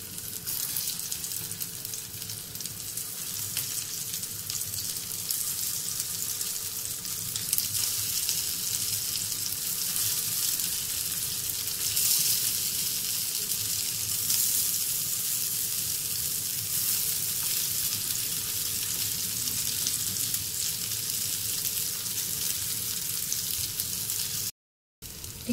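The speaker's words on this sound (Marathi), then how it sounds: "तवा गरम झालेला आहे, तेलही गरम झालेलं आहे आपलं. टिक्की घेते टाकून." Tikki patties fry in hot oil on a tawa griddle, giving a steady, loud, close sizzle that runs unbroken for the whole stretch, with no voices over it.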